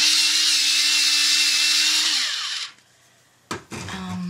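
A pencil is ground in a sharpener with a steady, loud whirring hiss for about two and a half seconds, which then cuts off, followed by a sharp click and a brief softer rattle.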